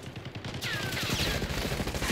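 Rapid gunfire from a multiplayer shooter video game, dense and continuous shots crackling through the whole stretch, loud and close with a whistling sweep behind, no talking.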